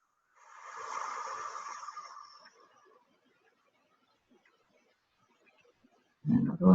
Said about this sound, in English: we blow out as though we're blowing out candles